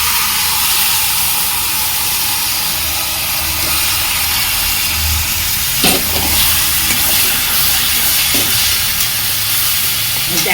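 Urad (biulir) dal added to a hot pan, a loud steady sizzle and hiss close up, continuous throughout with a few brief stirring clatters.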